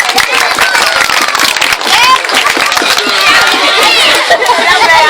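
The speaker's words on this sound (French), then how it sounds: "Est-ce qu'on peut applaudir très fort pour le nom du fondateur?" Crowd at a school-year opening event claps and cheers loudly, a dense, steady wash of applause with shouts and chatter mixed in, close and sustained.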